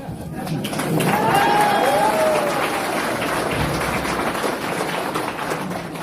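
A business seminar audience breaks into steady applause, a dense wash of clapping that swells and then holds, with a few voices mixed in.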